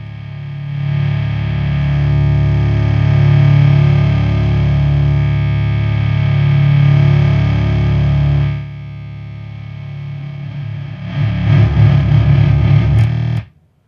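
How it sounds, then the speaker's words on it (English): A Heretic Effects Drone Box synth plays a loud, steady low distorted drone with slow chorus-like swells, then drops quieter before a boost kicks in near the end, the tone turning harsher and clipping until it cuts off abruptly. "it gives you a little bit extra, and then it even ends up clipping kind of towards the end"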